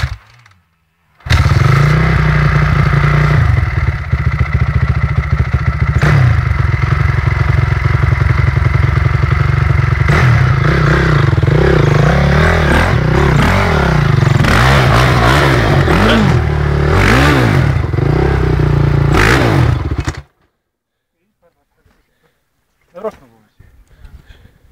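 A motorcycle engine revs hard and continuously while riding across muddy terrain, loud and close, with rising and falling pitch and clattering knocks, before cutting off into near silence.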